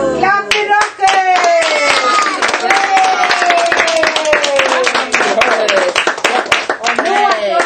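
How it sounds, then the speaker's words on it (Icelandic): Rhythmic clapping runs throughout alongside a voice chanting or singing over it during a young children's dance, steady and close, with the claps tight and regular. "Klapp fyrir okkur."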